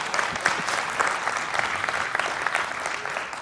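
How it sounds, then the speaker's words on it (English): A seminar audience applauds a speaker on stage with dense, steady clapping that stays fairly loud and even for the whole stretch, with no talk over it. "you just applauded me for quitting school"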